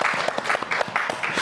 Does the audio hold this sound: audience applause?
yes